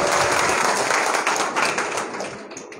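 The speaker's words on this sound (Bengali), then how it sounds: "জামালউদ্দিন গাজী ভাইকে আমরা সকলেই করতালির মাধ্যমে বরণ করে নিচ্ছি।" A crowd at an outdoor political rally in Noakhali applauds to welcome a speaker, a dense, loud wash of clapping that holds steady and then tapers slightly toward the end.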